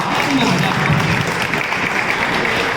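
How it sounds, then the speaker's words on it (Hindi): A dense wash of clapping from a crowd at a school retirement ceremony, steady and loud throughout, with voices mixed in. "मैडम दिल बोल तो ताली जब बजानी है तो आप"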